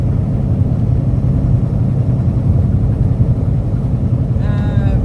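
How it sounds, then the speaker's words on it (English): Continuous low rumbling road noise from inside a truck on a Florida highway, a steady dense roar with a faint high whine near the end. "sounds like I-10. Clickety clack road noise"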